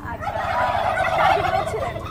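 Turkeys gobbling on a village turkey farm in Bangladesh, a dense overlapping chorus of many birds calling continuously at close range.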